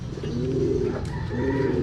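A racing pigeon coos close by, giving a low, throaty, rolling call that repeats twice in quick succession.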